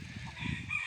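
Broiler chickens and laying hens in a large farm enclosure give soft, low clucks and murmurs, faint and close together, in a very brief moment.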